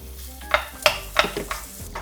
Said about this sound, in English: When the oil has heated up, then just throw in your Spam and start sauteing